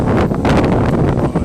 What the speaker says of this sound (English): Windy, wet and chilly.